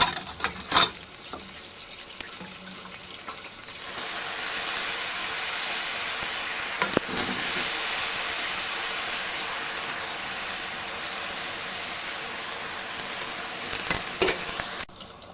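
Boiled chicken broth poured into a pot of soaked freekeh: a loud, steady rushing hiss of liquid hitting the hot grain for about ten seconds, with clanks at the start and end, close and no talking.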